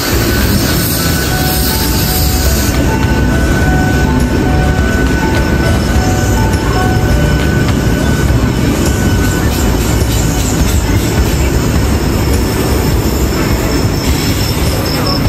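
A passenger train runs on rails between stations in India, heading from Kolkata toward Agra. The loud, continuous rolling rumble carries steady wheel squeal and faint clatter throughout.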